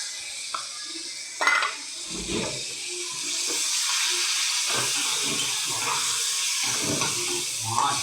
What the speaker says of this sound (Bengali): দিয়ে আমি পেঁয়াজটাও ভেজে নেবো